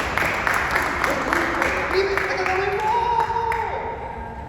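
A theater audience claps steadily for a few seconds, a broad patter of applause with voices and tones mixed in, fading slightly at the end.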